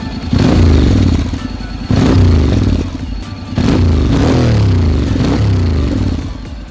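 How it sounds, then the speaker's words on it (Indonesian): A Honda X-ADV 750 V-twin scooter fitted with a full-system aftermarket exhaust revs loud and close in three bursts, each throttle blip swelling and dropping back to a rumbling idle between them. "Ya, itulah suara V-twin ya."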